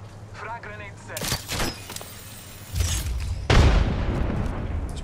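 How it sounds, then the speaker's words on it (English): In a shooter video game, a frag grenade blows up with a heavy booming blast that rumbles on, while players keep talking over the game sounds before and after it. "Frag grenade set."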